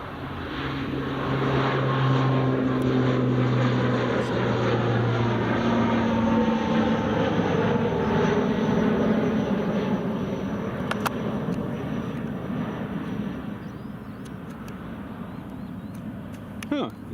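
An Aer Lingus airliner departs Glasgow Airport with a loud, sustained jet roar that fills the whole stretch, swelling early and then easing off slightly toward the end.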